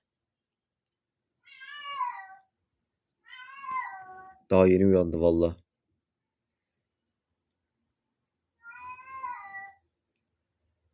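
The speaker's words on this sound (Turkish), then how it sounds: "kedi de bağırıyor" A cat meows three times, drawn-out and rising-falling calls spaced apart, close and clear, with a brief burst of someone speaking between them.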